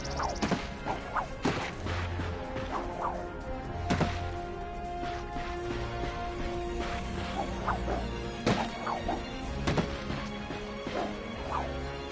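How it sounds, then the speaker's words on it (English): Ratchet smashing wooden crates in the Ratchet & Clank video game: repeated sharp cracks and thwacks in an uneven rhythm over game music and ambience, close and fairly loud. "Look at him smashing crates."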